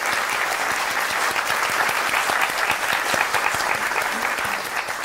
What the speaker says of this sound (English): let's give a round of applause for our 12 Asia Oceania drivers.